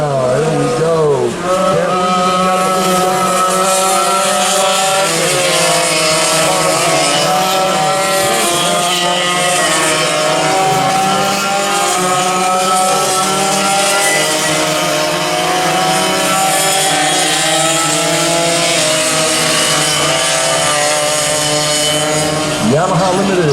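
Vintage foreign-powered sidewinder racing karts scream past on a track, a loud, sustained high-pitched engine drone with shifting pitch as they speed by, with a voice talking over the roar.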